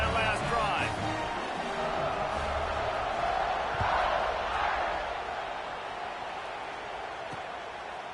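Stadium crowd noise from the College Football 26 video game, a steady broad roar that fills the background under continuous play-by-play commentary.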